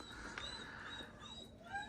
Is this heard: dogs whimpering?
yes